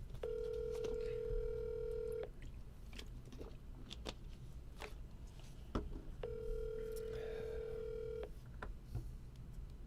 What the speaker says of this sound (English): Calling Megan Carew Mobile